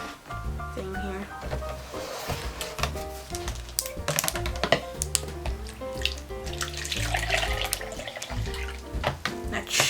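Water poured from a container into a Dollar Tree snow globe jar during a craft project, a soft splashing and trickling that carries on steadily under a person talking.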